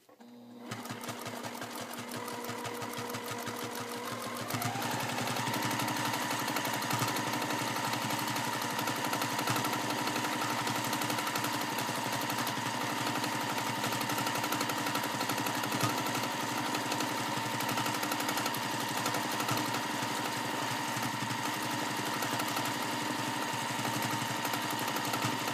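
Sewing machine free-motion quilting a wave pattern across a quilt block, a steady close-up mechanical whir that rises in speed after a few seconds and then runs continuously.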